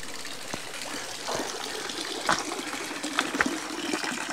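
Running water from a drinking water tap at an outdoor roadside spot near Lac de Serre-Ponçon, a steady gushing flow with a few splashy surges, fairly close.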